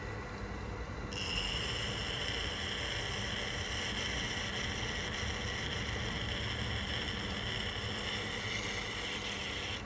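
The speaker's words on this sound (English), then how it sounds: "just bringing the tool in, the grinder blade in" An angle grinder runs steadily against a Tormek waterstone while it is reprofiled freehand. A constant broadband whine and hiss carries on loud and close from about a second in, with no talking over it.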